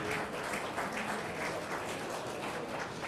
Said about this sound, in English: give yourselves a round of applause for attending this event